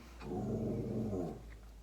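A female dog gives one low, sustained growl lasting about a second, close and fairly soft, then it tapers into quiet.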